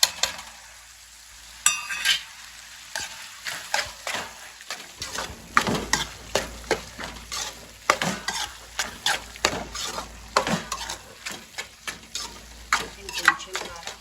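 Garam masala and spices are stirred into a sizzling masala in a pan, with a spoon scraping and clinking against the metal in an irregular rhythm over a steady low fry, close and fairly loud, with no talk.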